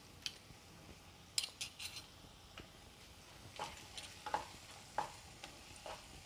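A spoon stirs aloo matar kofta curry gravy with butter and coriander in a pan, making faint, scattered scrapes and light clinks against the metal over a soft sizzle, with no voices.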